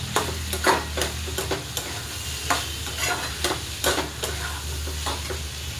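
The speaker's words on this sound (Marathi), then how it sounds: "आता एक जीव करूया." A spoon stirs a Maharashtrian shravan ghevda bean curry with onion, tomato, red chilli powder, garam masala and turmeric. The scraping strokes come at an uneven rhythm over a steady low sizzle, close and fairly loud, with no talking.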